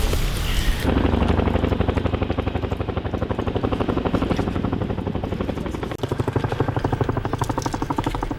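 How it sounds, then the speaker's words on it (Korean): Military transport helicopter drawing closer from far off, a loud, steady rotor thump and turbine roar running continuously after a brief rush of wind at the start, with a slight dip near the end. "멀리서 수송 헬기가 나타났습니다."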